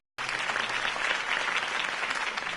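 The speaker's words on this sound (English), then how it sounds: "could have heard that applause" Steady applause from a political campaign crowd in a Batman film, a dense wash of clapping that begins abruptly and holds at an even level throughout.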